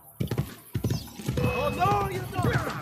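A horse's hooves clip-clop in quick bursts in the Assassin's Creed Brotherhood video game, followed by a whinny, with someone speaking over parts of it.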